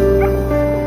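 A dog struck by a speeding car yelps and whimpers in one short, loud, close cry.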